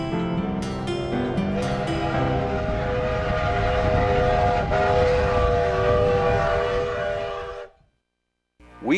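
Steam train in operation, a sustained whistle blast with rumbling locomotive running underneath, loud and steady before cutting off abruptly near the end.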